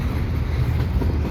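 CPKC Intermodal 119, a model train on a layout, pulls out of Dorval at Marshall Avenue with a steady, loud, close rolling rumble and no voices.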